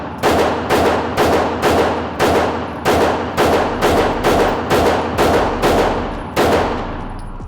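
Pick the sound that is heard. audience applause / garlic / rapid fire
rapid fire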